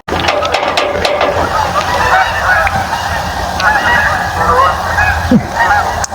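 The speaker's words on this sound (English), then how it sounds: "Canadian geese or Canada goose" A flock of Canada geese honks loudly and continuously, many overlapping calls close by in a noisy, busy outdoor chorus.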